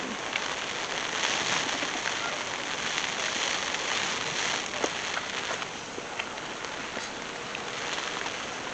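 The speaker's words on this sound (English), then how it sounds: "Look at the rain. It's so nice." Steady rain pours onto a surface at a home in Jamaica, a dense, even hiss of drops that stays loud and constant throughout with no one speaking.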